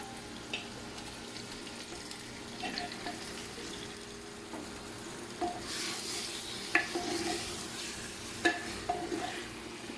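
Mutton sizzles and fries in a clay pot, with a steady low crackle broken by occasional scrapes and clinks as it is stirred, no voices heard.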